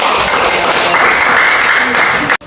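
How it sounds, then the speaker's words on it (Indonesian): A classroom of students claps together on cue during a lesson, a loud close burst of hand clapping that runs for a couple of seconds before cutting off abruptly. "tepuk tangan"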